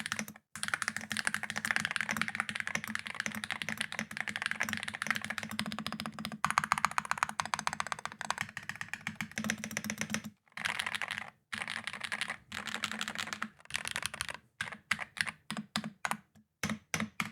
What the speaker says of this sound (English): the typing experience, again, and the sound of the board is what's really exceptional